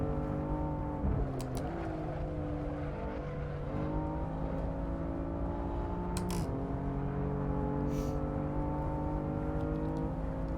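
BMW M4 race car in Assetto Corsa with steady engine drone and shifting tones, a faint rough rumble under throttle from the traction control, fairly quiet throughout without speech.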